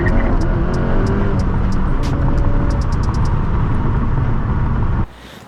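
A 400 wheel-horsepower Volkswagen GTI fitted with an IS38 turbo accelerates hard, its engine a loud, steady drone that holds for about five seconds with no talking before cutting off abruptly.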